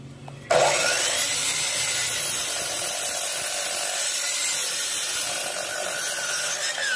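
Twelve-inch Lotus sliding dual-bevel miter saw making a 45-degree cut through wood, a loud blade whine that starts abruptly after a brief quiet moment and then holds a steady, close, rasping roar.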